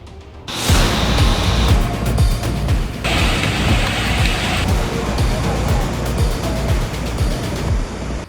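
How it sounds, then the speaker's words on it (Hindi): Heavy monsoon rain in India pours down as a dense, loud, continuous roar of falling water that continues steadily throughout, with possible faint voices underneath. "पहाड़ से मैदान तक भारी बारिश ने तबाही मचा रखी है।"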